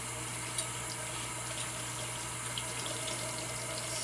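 Cold tap water runs steadily into a sink while sea moss is rinsed under it, a continuous close hiss with a faint low hum and no voices.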